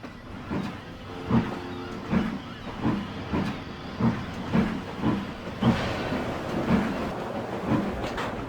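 A steam locomotive hisses and chuffs in a slow, regular rhythm, soft bursts of steam repeating over a low rumble.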